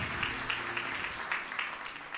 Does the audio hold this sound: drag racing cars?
no